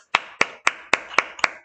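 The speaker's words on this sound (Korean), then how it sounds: "성모 박수." A student claps hands seven times in a strict, evenly spaced rhythm, each clap sharp, crisp and close, with short quiet gaps between them and no talking.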